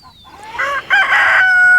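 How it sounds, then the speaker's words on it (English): A hen, recovering from illness, gives a loud, close, drawn-out clucking call that rises and holds, heard alone. "What are you doing, mama hen?"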